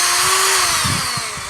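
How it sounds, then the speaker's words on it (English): A Black & Decker 3-speed rotary tool fitted with a sanding pad runs at a loud, steady high whine close by, with a slight pitch drop partway through and no voices. "This right here I have is a Black & Decker 3-speed rotary tool."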